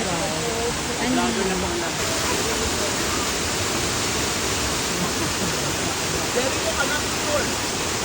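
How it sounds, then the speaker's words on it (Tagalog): Water pours steadily over the first falls, a dense continuous rushing roar heard up close, with voices faintly under it. "This is the first falls"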